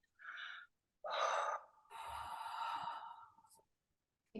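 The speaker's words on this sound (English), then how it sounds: "Big deep breath." A big deep breath: a short sharp inhale, a second fuller gasping intake, then a long audible exhale, close and quiet with silent pauses between.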